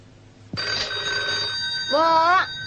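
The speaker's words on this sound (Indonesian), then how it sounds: "Mana sih dari tadi telepon bunyi nggak diangkat-angkat?" An old-style telephone bell ringing indoors in an Indonesian domestic scene, a loud electronic-sounding trill that starts abruptly, holds, then swells again in a second warbling burst, with a voice briefly underneath.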